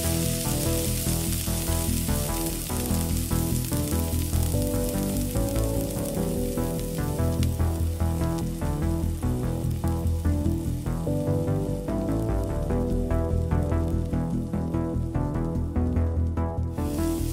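A steady, crackling sizzle of hot fat poured onto raw meat runs unbroken throughout, loud and close, with a low hum underneath.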